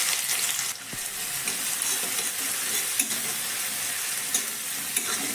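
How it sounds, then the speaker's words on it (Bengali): Chopped onion and green chilli frying in hot oil, giving a dense, close, continuous sizzle with a brief dip near the start and a few faint clinks. "এবার দিয়ে দিচ্ছি আমি তেলের মধ্যে একটা মিডিয়াম সাইজের কুচনো পেঁয়াজ আর 2টো কুচনো কাঁচা লঙ্কা"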